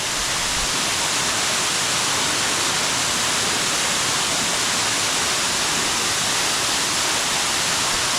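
A waterfall in a karst canyon near Kozina roars steadily, a dense, close, unbroken rush of falling water filling the scene without any voices.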